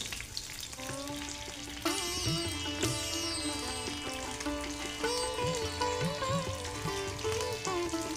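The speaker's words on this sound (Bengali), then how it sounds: "মাছগুলো ফ্রাই হোক" Topse fish coated in gram flour batter fry in hot mustard oil, a steady bed of sizzling crackle running underneath a prominent sitar melody with plucked, bending notes.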